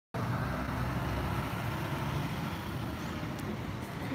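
Diesel bus engine at Brazil's Tietê bus terminal, a steady loud rumble that fills the whole stretch without pause, with busy terminal background around it.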